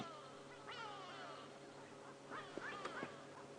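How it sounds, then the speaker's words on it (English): Harsh, nasal go-away bird calls ring out in a few rising bursts over steady background noise during a morning safari drive, with several sharper cries near the end. "Here all the go-away birds."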